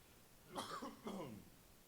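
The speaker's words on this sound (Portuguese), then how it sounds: "Hoje a tosse está pegando." Two quick coughs in a row, faint and somewhat distant, over a quiet background hiss.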